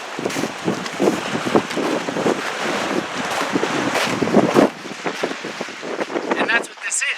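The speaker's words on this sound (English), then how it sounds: "as you can see, it's pretty stormy up this bay. It's a bit choppy." Wind and choppy, stormy water on Georgian Bay, Lake Huron: gusty wind buffeting the microphone over rushing, splashing lake waves, loud and continuous, with a person talking through it.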